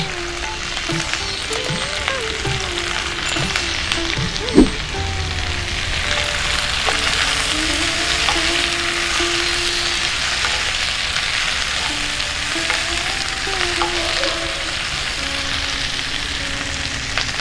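Raisins fry in a pan with slit green chillies for mixed vegetables, giving a steady, moderate sizzle. One sharp knock and faint tonal background sounds come through.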